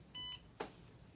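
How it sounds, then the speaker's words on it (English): An interactive mask's proximity-sensor alarm gives one short electronic beep, followed by a brief click, both faint and quick against quiet room noise. "Here is to turn off the alarm, basically."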